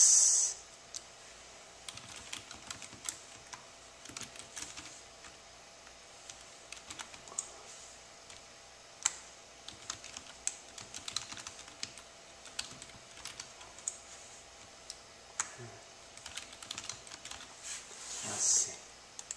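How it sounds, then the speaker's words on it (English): Typing on a computer keyboard while entering an email address, a quiet run of irregular light clicks and taps across the whole stretch, close by with faint background hiss and no talk. "Type your email address."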